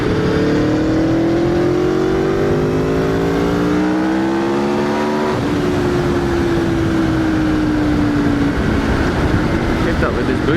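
An Aprilia Tuono V4 1100 Factory motorcycle is ridden hard, its engine note rising through the revs and dropping at a gear change before climbing again, loud and continuous under rushing wind.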